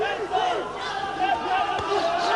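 Uzbek fans in a boxing arena roar and chant in a sustained, loud crowd din from the far side of the ring, while a commentator talks over it.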